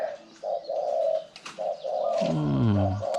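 Birds calling in a Khao Yai forest, repeated soft cooing notes in short phrases, near and clear, with a deeper rolling coo near the end.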